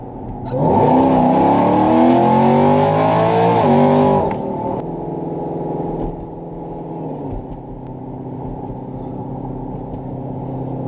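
A Jeep Grand Cherokee Trackhawk accelerates hard while racing a Tesla, its engine revving up loudly with rising whine for several seconds, then dropping back to a steadier, quieter cruise drone.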